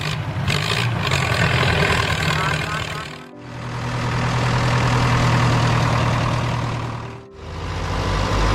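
An Oliver 66 row crop tractor, a 1949 successor to the Oliver 60 built by the Oliver Farm Equipment Company, idles with a steady low engine rumble. The rumble dips briefly twice.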